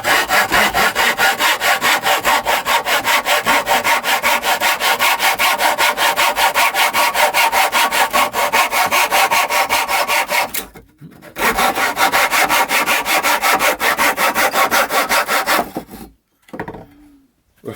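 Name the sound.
replica Roman hacksaw cutting cedar wood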